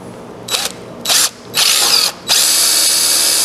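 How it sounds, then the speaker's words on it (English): A power drill whirs in three short bursts, then runs continuously; loud and close, with no talking. "okay then I'm gonna drill it"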